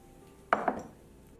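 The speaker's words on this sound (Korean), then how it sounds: "달래 머리는 이렇게 으깨 주시면 달래장의 향이 훨씬 더 잘 배입니다" Wild chive (dallae) bulbs are crushed on a cutting board, two quick, close, muffled thuds in a row against near silence.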